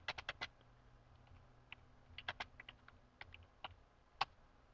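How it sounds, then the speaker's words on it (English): Quiet, close typing on a computer keyboard, with irregular bursts of individual key clicks and short pauses, played alone over a faint background hum. "I can continue to type."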